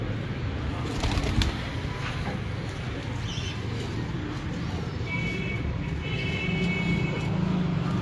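Pigeons coo softly amid a steady low rumble, with faint bird calls near the end; the birds are a breeder's favourite Johnsar and Teddy fancy pigeons in Kasur.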